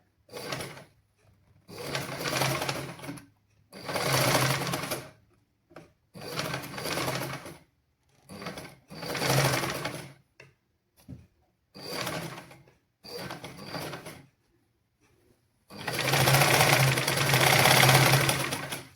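Sewing machine stitching fabric in bursts of fast, steady whirring, close and loud, separated by short pauses, with a longer run at the end; no talk.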